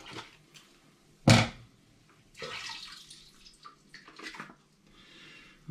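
A tomato paste homebrew wash being stirred vigorously, with sloshing, swishing water bursts, one loud splash near the start, then several softer swirls close by.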